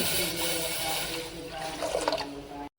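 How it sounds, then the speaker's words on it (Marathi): Water pours steadily into a metal pressure cooker, a continuous splashing fill with a hollow ring that rises slightly before stopping abruptly. "आता एका कुकरमध्ये आपण तांब्याभर पाणी टाकून घेऊ."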